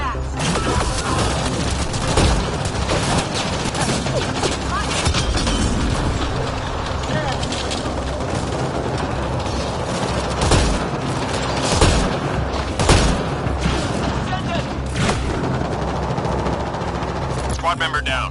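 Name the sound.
gunfire and explosions in the video game Mass Effect: Andromeda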